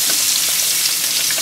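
Filet mignon medallions searing in a hot pan, a loud, close, continuous sizzle with crackling spits.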